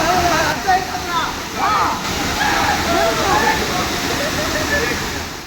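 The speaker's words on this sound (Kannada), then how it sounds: "ಈ ವರ್ಷದ ಮಳೆಗೆ ಜಲಪಾತ ತುಂಬಿ ಹರಿಯುತ್ತಿದ್ದು ಪ್ರವಾಸಿಗರ ದಂಡೇ ಹರಿದು ಬರುತ್ತಿದೆ" Apsarakonda waterfall near Honnavar in Uttara Kannada runs full after monsoon rain, a loud, constant roar of rushing water with sloshing and splashing close by.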